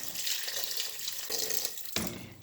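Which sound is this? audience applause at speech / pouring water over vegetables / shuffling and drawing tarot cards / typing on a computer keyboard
pouring water over vegetables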